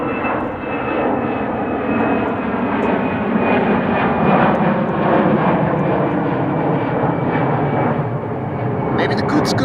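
A jet airliner departs Amsterdam Schiphol Airport at close range, its engines roaring loud and steady throughout with a high whine over a broad rumbling wash.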